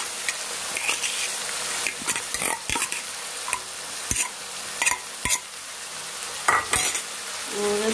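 Bottle gourd and chana dal being stirred in a pan over softened onions, a continuous sizzle broken by repeated sharp spoon scrapes and knocks against the pan at an irregular pace, close and fairly loud.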